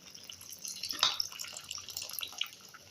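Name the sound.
pouring strained tamarind water into radish sambar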